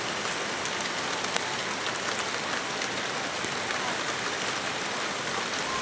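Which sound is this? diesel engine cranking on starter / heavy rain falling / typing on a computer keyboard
heavy rain falling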